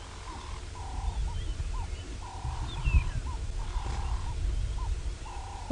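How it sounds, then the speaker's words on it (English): Birds call repeatedly at a distance on an African safari morning drive, clear short tonal notes in an uneven rhythm over a low steady rumble. "All the birds are chirping."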